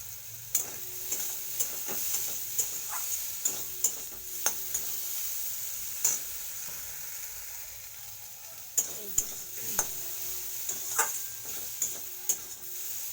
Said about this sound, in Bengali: দেখো বেশ কিছুটা ভাজা ভাজা হয়ে গেছে